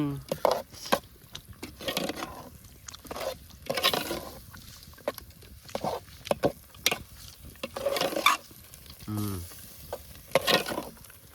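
Onions with coconut and masala frying in a pan for a Konkan-style chicken party, sizzling steadily while a spoon scrapes and stirs in repeated bursts, with people talking over the cooking.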